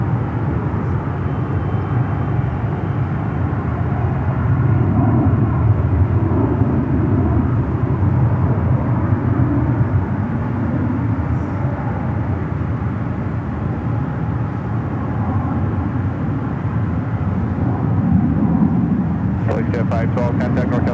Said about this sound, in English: Got that Delta 767 now on the move.